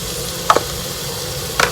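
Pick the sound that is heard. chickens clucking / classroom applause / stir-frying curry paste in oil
stir-frying curry paste in oil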